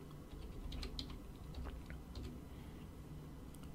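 Someone enters a username on a computer keyboard, a quick run of soft, close key taps in an uneven rhythm over quiet room hiss, with no speech.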